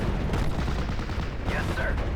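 Burst of World War II battle gunfire in the video game Steel Division: Normandy 44, rattling rapid shots over a dense rumbling din, with brief voices mixed in.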